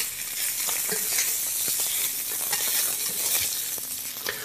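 Seitan browns in a hot pan, a steady close sizzle of frying with a few scattered clicks and stirring scrapes throughout, no voices.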